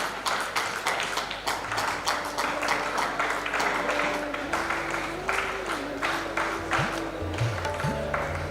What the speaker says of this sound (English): Please give a huge round of applause to all the three guests of honor.